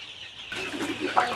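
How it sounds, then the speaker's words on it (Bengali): Egyptian Fayoumi laying hens cluck in a farm setting, a soft steady murmur of hen calls that picks up after a quiet start, with one brief sharper call near the end. "এগুলো ডিমের রানী অরিজিনাল মিশরীয় ফার্মি মুরগি"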